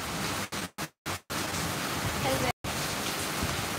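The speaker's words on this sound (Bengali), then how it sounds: "অনেক জোর বৃষ্টি হচ্ছে" Heavy rain pours steadily in a loud, broadband hiss that is interrupted by several abrupt cuts of silence, heard close by with no talking over it.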